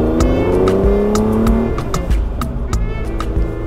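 A 1979 Ferrari 512 BB is driven at speed, its engine note loud and steady from inside the car, pitch sliding as it changes gears.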